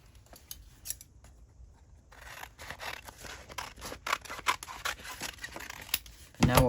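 Scissors snip through a paper envelope to cut it in half, a series of close, quiet crisp cuts and rustles gathering pace, ending in a louder paper crinkle.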